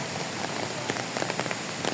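Steady rain falls and patters on surfaces close by outdoors, a dense continuous hiss with scattered louder drops, no voices.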